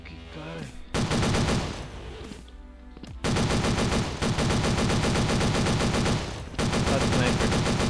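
Automatic weapon fire in the shooter video game Blood Strike: dense, loud, sustained rattling bursts at close range, broken by a couple of brief pauses, with faint voices underneath.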